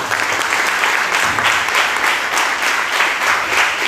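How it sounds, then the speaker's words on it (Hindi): An audience at a religious teaching gathering gives steady, full applause that fills the room from start to finish at an even loudness, with no voices standing out. "एक अच्छी ताली हो जाएगी"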